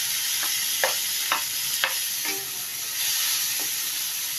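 Tomato frying in butter and cooking oil for beef macaroni, a steady sizzle and hiss with several soft stirring scrapes spaced about half a second apart, close and moderately loud.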